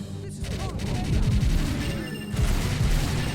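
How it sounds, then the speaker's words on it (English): Scattered gunshots in a lightgun video game, a few sharp cracks and a short crackling volley, heard beneath someone talking. "can you hear me over the sound of gunfire"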